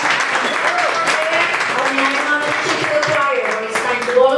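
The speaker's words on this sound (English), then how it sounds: "Let's give a round of applause." Applause from an audience at a Dallas menudo breakfast political gathering after a question session, steady clapping lasting several seconds with voices mixed in.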